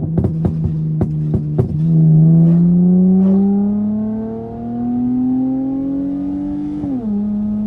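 Tuned Dodge Charger SXT pulling hard in second gear on a back road, a loud close engine drone rising steadily in pitch for several seconds after a few sharp burbling pops, then a brief dip as it shifts.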